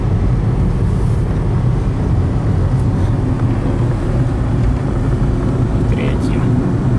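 A worn Fiat Punto with an oil-soaked engine accelerating onto a highway, a loud, steady low engine and road roar filling the cabin throughout with little change in level.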